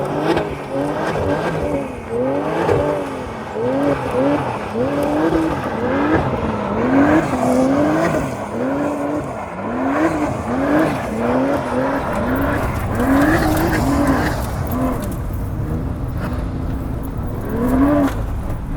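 A RUF Rodeo sports car drives over dirt with a loud engine that rises and falls in repeated revving surges, heard from inside at close range, later giving way to broadband road and gravel rumble.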